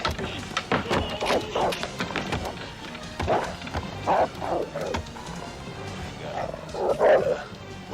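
In a scene from the horror film The People Under the Stairs, a dog barks and snarls amid scuffling noises and shouted voices, loud and close throughout.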